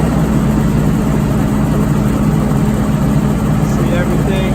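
A MEP805B diesel generator runs with a loud, steady low engine drone that holds constant throughout, with someone talking over it.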